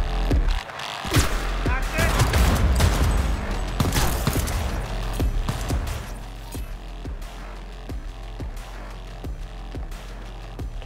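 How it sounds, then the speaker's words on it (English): Gunfire erupts in a Cyberpunk 2077 heist fight, a run of sharp shots and bursts crowding the first half, then sparser, quieter reports trailing off amid game noise, with a voice talking over it. "Open fire!"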